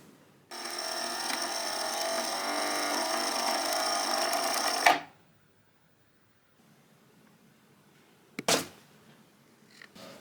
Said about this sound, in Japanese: それではミシンで縫製していきたいと思います。